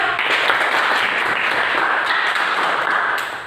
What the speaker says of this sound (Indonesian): tepuk tangan dulu untuk kelompok 1 dan kelompok 2